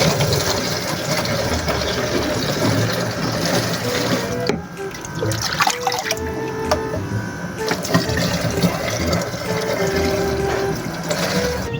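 Water is fetched and runs into a container for mixing chick medicine, a steady rushing pour that breaks off partway and then resumes with clinks and knocks.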